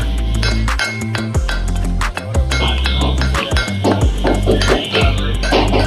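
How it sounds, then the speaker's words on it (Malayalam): Ginger, garlic and chillies are pounded to crush them, giving a rapid series of sharp clinking and knocking strikes against a steady tonal background throughout. "അത് ഇതിലേക്ക് ഇടാനുള്ള ഇഞ്ചിയും വെളുത്തുള്ളിയും അതുപോലെ തന്നെ മുളകും ഇടിച്ച് ചതയ്ക്കുന്നതാണ് നമ്മൾ കേൾക്കുന്നത്"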